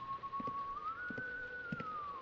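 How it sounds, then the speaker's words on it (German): A sustained, gently rising and falling whistle from a coach in the horror game White Day, heard faintly under a background of soft footsteps or taps. "Der Trainer da, der pfeift die ganze Zeit"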